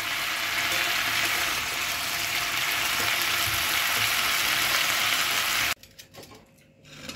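Poloka greens with potatoes cooking in a pan, giving a steady loud sizzle that cuts off abruptly near the end, leaving faint clattering; no talking.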